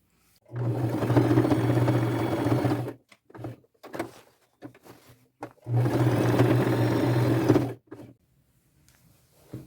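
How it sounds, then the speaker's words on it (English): A sewing machine stitches denim patches onto jeans in two loud bursts of a few seconds each, separated by scattered clicks and handling noises while the fabric is adjusted. "I'm going to go to my machine and sew them just like I did everything else"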